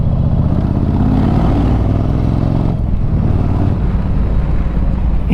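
A Yamaha Virago 1100 motorcycle engine at around 1500 rpm in fourth gear, its loud, close, throbbing rumble steady, then dipping briefly before picking back up.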